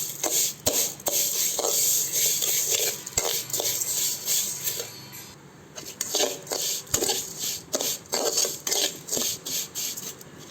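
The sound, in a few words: vermicelli being fried and stirred in oil in a pan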